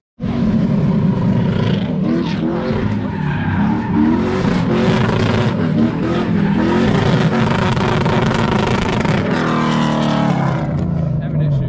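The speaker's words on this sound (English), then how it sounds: "let's get started with some drifting" Drift cars slide around a track in North Carolina, engines roaring loud and close over continuous screeching tire squeal that rises and falls across the run, with voices faintly mixed in.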